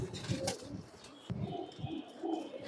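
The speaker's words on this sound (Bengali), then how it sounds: "খুবই ভালো কিছু কবুতর আছে" Pigeons in a loft coo softly, a few low rounded throaty calls in close succession, near and moderately quiet against light background noise.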